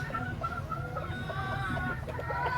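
White Hatch gamefowl chickens cluck nearby in a busy, overlapping chorus of short calls, with other birds audible in the background throughout.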